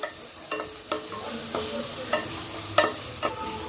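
Ground ginger sautéing with garlic and onions for a vegetable kurma, a steady sizzle broken by a spoon scraping the pan roughly every half second, close and moderately loud with no talking.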